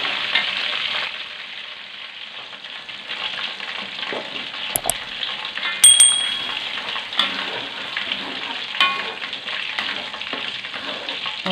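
Chicken frying in sambal balado, a loud steady sizzle and crackle with scattered sharp clicks of stirring, a few stronger pops in the middle, close and continuous throughout.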